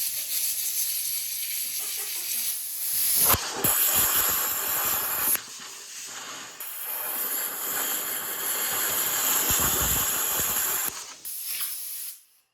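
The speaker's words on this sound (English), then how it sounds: "Take the air hose, blow it down that cylinder." Compressed air from a hose roars into the cylinder of a Honda HR 17 push mower engine, a loud, sustained rushing hiss broken by brief pauses before cutting off at the end, close and alone.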